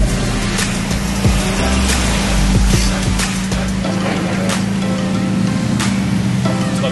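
A motorboat's engine runs steadily behind the rider, a constant low drone under rushing water and wind noise as the boat moves through rain.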